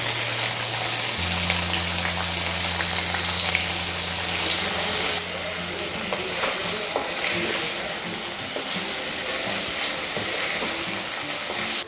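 Paneer cubes sizzle and spatter in a couple of spoonfuls of hot oil, a steady close frying hiss with stir scrapes and a low pan hum early on, no voices.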